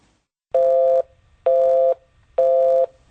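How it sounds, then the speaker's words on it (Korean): Telephone busy signal: three evenly spaced steady tones, each about half a second long with equal silent gaps, loud and clear with no voices. "아이, 통화 중이잖아."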